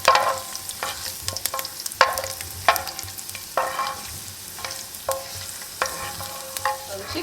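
Chicken frying in oil with three cloves of chopped garlic, a steady sizzle broken by repeated clinks and scrapes of a stirring utensil against the pan, close up.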